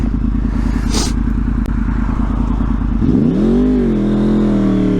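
A Yamaha R1 RN22 motorcycle engine runs loud and close while riding, a steady rapid thrum that dips and then climbs into a smoother, rising rev around the third second, with wind buffeting throughout.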